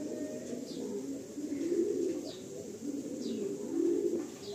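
Andhra pigeons coo in a loft in Behala, with soft, repeated low coos rolling in a steady rhythm, close by and alone with no voices.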